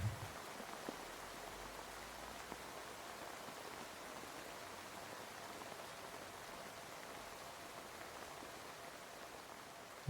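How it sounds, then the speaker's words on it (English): Steady rain falling, a faint, even hiss of drops that holds unchanged throughout with no voices over it. "it's getting rainy, huh?"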